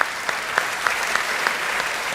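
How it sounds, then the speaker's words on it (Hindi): Brisk applause from the audience at a Hindi poetry recital (kavi sammelan), a continuous wash of clapping with a few sharper claps standing out, lasting a couple of seconds. "एक बार मुझे तालियों से आप आदेशित करें"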